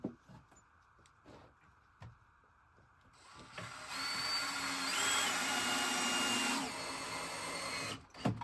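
A power drill drives angled toenail screws into a wooden table, a steady loud whir running several seconds after a few light knocks and taps, then stopping.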